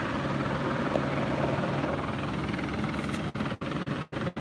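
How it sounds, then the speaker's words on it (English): A helicopter passes directly overhead north of City Hall in Los Angeles at night, its steady rotor and engine roar filling the whole clip before choppy gaps break it up near the end. "this helicopter is about to be flying directly over my head."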